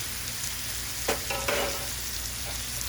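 Ginger stir-fried in a hot pan for shrimp with snow peas: a steady, close sizzle with a few quick scraping stirs of the spatula, and no voices.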